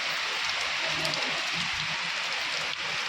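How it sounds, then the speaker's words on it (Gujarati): Steady rain pattering down, a dense continuous hiss with soft drops on a surface throughout. "વરસાદ આવે છે"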